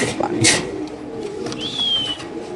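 Male racer pigeon calling among caged birds at a pigeon market, a soft coo and a brief high whistle rising over steady crowd chatter and background noise.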